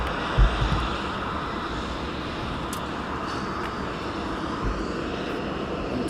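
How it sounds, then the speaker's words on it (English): A DHL cargo aircraft on approach to East Midlands Airport gives a steady, broad jet roar at moderate distance, continuous for the whole stretch with one brief low thump near the start. "DHL 76 now on approach."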